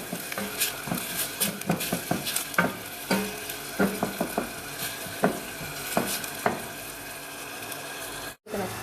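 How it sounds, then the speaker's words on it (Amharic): Garlic sautés in a pan with a steady close sizzle, broken by frequent sharp clicks and scrapes of a utensil stirring against the pan. "አሁን እንጨምረው ነጭ ሽንኩርቱ ነው። አብለን እናቁላላው።"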